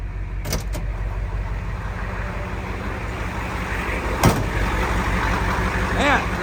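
A diesel Ford Highboy truck idles at normal idle in deep snow, a steady low rumble running throughout with a few brief clicks and mechanical noises over it.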